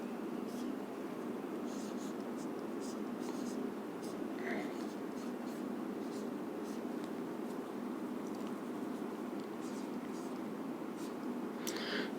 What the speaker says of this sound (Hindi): मैं आपके सामने 3 शब्द लिखता हूं पहले।